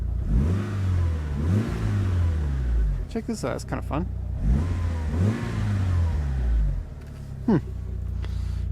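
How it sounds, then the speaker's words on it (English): A 1999 Mitsubishi Lancer Evolution 6 engine revs up in repeated bursts, rising and falling several times, with someone speaking briefly in the middle. "just give a little rev for you to hear"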